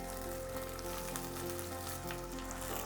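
Onions turning golden in a pan with fried javali beans being added, a continuous close sizzle and crackle of hot oil with faint stirring underneath.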